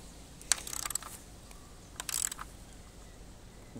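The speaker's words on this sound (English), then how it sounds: "we'll tighten these down to the proper torque spec" A ratchet clicks in two quick bursts of rapid ticking while bolts are tightened on a Segway Ninebot Max G30 scooter, close up and otherwise quiet.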